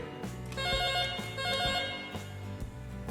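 An analog PABX office telephone rings in repeated electronic trills, a steady pulsing pattern of bright tones, fairly close and with no talking.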